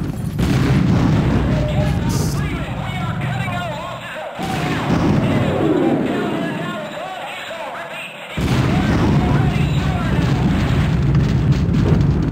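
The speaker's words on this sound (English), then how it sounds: "That was so much bombing, I couldn't hear you." Heavy bombing explosions rumble through Half-Life: Source, loud sustained booms and crashes rolling in waves for several seconds, under a player talking excitedly.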